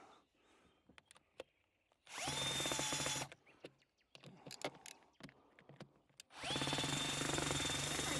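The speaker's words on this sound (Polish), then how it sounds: "Tylko wiertarką, bo rozwalisz śrubę." A power drill turns a screw in two long, loud whirring bursts that rise to a steady high spin, with scattered clicks and handling knocks in the quieter gap between them.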